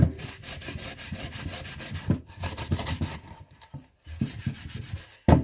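Close, steady back-and-forth rubbing and scraping from a scrubby pad and a scraper worked over a surface, in rhythmic strokes with brief pauses and no talking.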